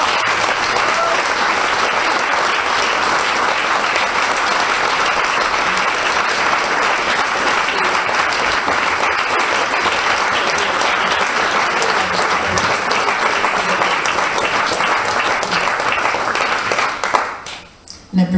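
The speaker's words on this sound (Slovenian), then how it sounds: "Mi prosim samo za en aplauz še za ekipo." An audience in a theatre at the Slovenian Youth Theatre applauds the team with dense, loud, sustained clapping that lasts most of the stretch, then thins and stops near the end.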